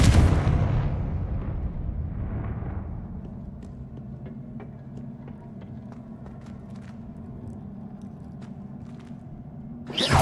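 Confringo blasting spell in the Hogwarts Legacy video game, opening with a loud booming blast that fades into a long low rumble, then a fresh burst at the very end, with no voices heard.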